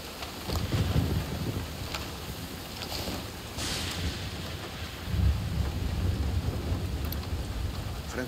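Rain and rolling thunder in the video game Ghost Recon Wildlands, a steady wash of rainfall with low rumbles swelling in the background and a few sharper crackles, fairly quiet overall.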